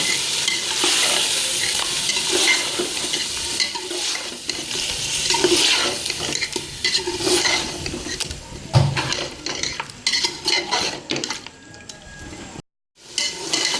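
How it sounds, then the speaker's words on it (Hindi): Yogurt gets stirred into aloo gosht cooking in a pot, with loud continuous sizzling and repeated scraping strokes of a spoon, briefly cutting out near the end, with no talking. "अब इसके अंदर हम दही डाल देंगे जो मैंने रखा हुआ था और 5 मिनट तक फिर पकाते रहेंगे ऐसे"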